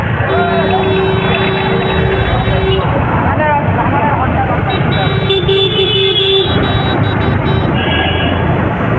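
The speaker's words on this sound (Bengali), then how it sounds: "সবাই হর্ন মেরে যাচ্ছে" Loud traffic din with sustained vehicle horns blaring, one long tone early and a stuttering series later, beneath steady road noise and talking.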